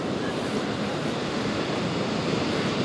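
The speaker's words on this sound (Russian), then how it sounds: "На море сегодня небольшой прибой" Small sea surf along the Anapa seafront washes in a steady, rushing noise mixed with wind buffeting the microphone, with no clear speech.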